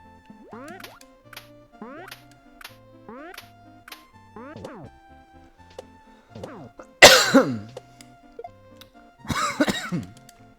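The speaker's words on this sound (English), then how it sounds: "I'm still battling that same cough" A person with a lingering cough coughs in a short burst, with a couple of strong throat-clearing coughs standing out near the end, close and fairly loud. Music with plucky tones plays underneath.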